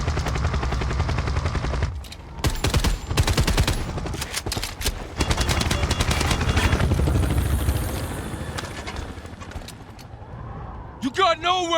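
Helicopter rotor drone and bursts of gunfire in the video game Dying Light The Beast, loud and sustained with rapid shots and explosive hits layered over a dense action soundscape.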